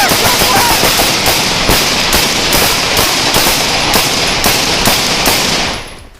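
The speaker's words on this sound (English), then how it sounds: "the situation escalated into a gunfire exchange" A police shootout caught on a dashcam: rapid bursts of automatic gunfire crackle continuously and loudly, shot after shot, for several seconds before abruptly dropping away.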